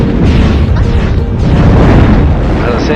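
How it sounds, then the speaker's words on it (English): Missile explosions in Steambot Chronicles, a continuous loud roaring boom with rumbling low blasts filling the whole moment, up close and dense. "dodge those missiles"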